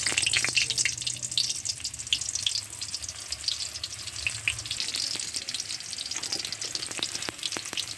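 Dried chillies and chopped onion frying in oil in a wok give a quiet, steady crackling sizzle with bright spitting pops that keep on throughout, without any voices.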